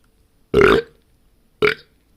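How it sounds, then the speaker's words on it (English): Two loud, close burps after drinking Warka Strong beer: a longer one, then a shorter one about a second later, with silence around them. "As I always say, if I burp, it's a sign of a good beer."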